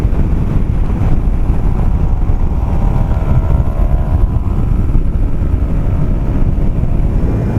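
Loud, steady wind roar buffets the microphone while riding a 2012 Zero DS electric motorcycle fitted with a windshield, a dense low rush filling the whole stretch with no voice.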